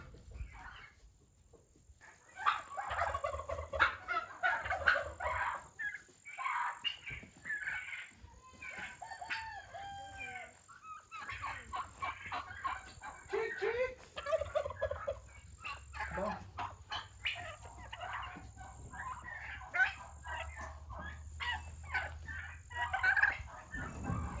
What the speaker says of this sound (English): Oh, there's another little gobbler. Turkeys!